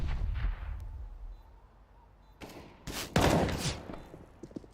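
Grenades exploding in a Counter-Strike match during a professional esports tournament, several muffled booming blasts and thuds at varying distances, one heavier burst standing out midway.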